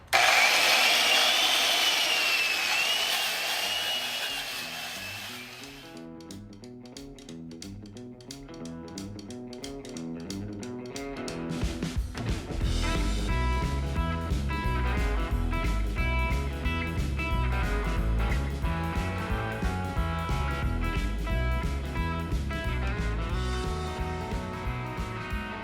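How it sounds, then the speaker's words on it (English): A large Montgomery Ward buffer and grinder cleans a part from an old Ford tractor, starting with a spin-up whine, then a sustained loud grinding and rubbing drone with a steady rhythmic pulse, close by with no voices. "There is my ginormous Montgomery Ward's buffer / grinder / gasket remover."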